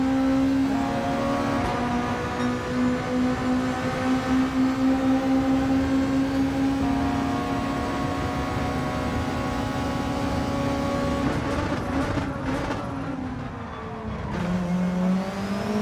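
Race cars in Gran Turismo 7 on the Dragon Trail track, with steady droning engine tones held at high revs, shifting pitch near the end as one car overtakes and pulls into the lead.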